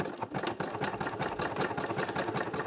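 A sewing machine stitches a seam through fabric, its needle chattering in a fast, even mechanical rhythm, close and steady with no speech.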